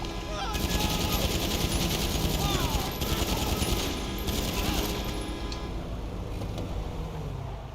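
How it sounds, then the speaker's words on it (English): An AP pistol fires in GTA 5 Online in a rapid, continuous stream of shots for several seconds, loud and close over game background noise, then trails off. "Finally got to use my new gun."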